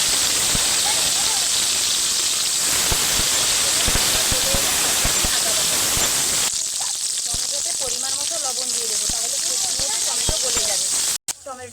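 Tomatoes sizzling in hot oil in a pan with whole spices, cardamom, cinnamon and bay leaf, a steady loud hiss throughout with faint stirring clatter, quieting slightly partway and ending with a sharp knock.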